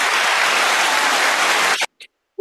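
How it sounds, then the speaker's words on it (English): A burst of applause, the kind a livestream host plays for the chat, sounds as loud steady clapping for almost two seconds and then cuts off abruptly, followed by a couple of short faint clicks. "I think the chat deserves a round of applause."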